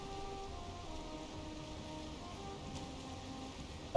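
Steady rain falls during a storm at sea in Valheim, a continuous even hiss of moderate loudness with no voices, ending in a brief louder burst at the very end.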